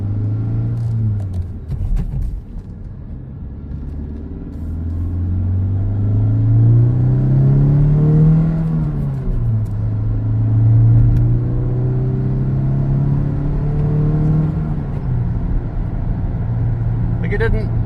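A 2019 Honda Civic Sport 2.0 with an RV6 downpipe and a silicone intake coupler drones and hums from inside the cabin, pitch rising and falling as it accelerates and shifts, with someone talking over the engine.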